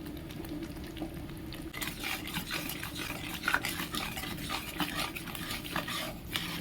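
Spoon stirring ground turmeric, cumin and coriander into a simmering poppy seed, pointed gourd and potato curry in oil and water, a steady scraping and rubbing that picks up after a quieter start, with soft sizzling underneath.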